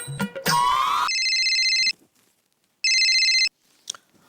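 An electronic telephone ringtone trills loudly in two bursts with a pause between, following a brief rising tone and a short voice.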